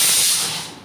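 A pressure cooker whistle on a home stove, cooking vegetable curry alongside khichuri, gives a loud, steady steam hiss that slowly fades over about a second, with no voices.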